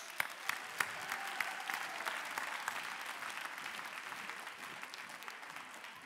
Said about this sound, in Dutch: Dames en heren, jongens en meisjes, geef ze een hartelijk applaus.